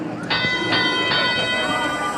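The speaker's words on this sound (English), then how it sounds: "that bell means that we are now in our driver control period" Bell marking the start of the driver control period at an FTC robotics championship playoff match, several ringing metallic strikes in quick succession over loud arena crowd noise.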